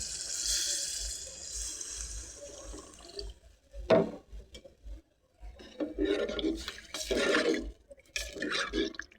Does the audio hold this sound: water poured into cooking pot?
yes